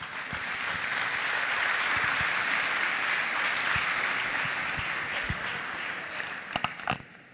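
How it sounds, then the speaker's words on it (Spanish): Sustained audience applause after a talk at an architecture and urbanism event, a steady, close wash of many hands clapping that fades slightly, with a few sharp claps near the end. "No hace falta aplaudir."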